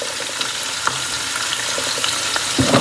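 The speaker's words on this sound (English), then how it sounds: "So I'm going to pour the peppers and onions in. That's that sizzle that you want to hear" Peppers and onions sizzle loudly in a hot pan, a constant crackling hiss with a few sharper pops near the end.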